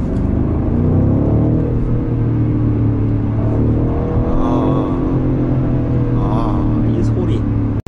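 A BMW M550i LCI accelerates in Sport Plus mode inside a tunnel, its engine and exhaust giving a steady, loud rumbling drone that rises gently, with a person talking over it throughout.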